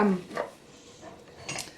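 Pieces of a fragile tea set are unpacked and handled, giving a few light ceramic clinks and taps close by: one at the start, another shortly after, and a last one near the end, with quiet gaps between.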